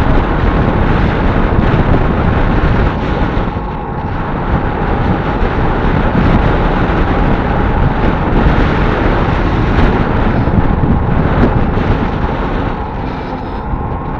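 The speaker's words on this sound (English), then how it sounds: "Of course, it's a head-on wind that's going into it." Head-on wind buffets the microphone while driving at about 37 kilometers an hour, a loud, steady, roaring rush of noise with slight swells throughout and no talking.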